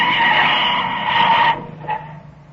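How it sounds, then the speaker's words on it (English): A car's brakes screech in a sustained, loud squeal in an old 1936 radio drama, cutting off sharply and followed by a brief fainter squeak, with no talking. "They pull up with a burning screech of brakes."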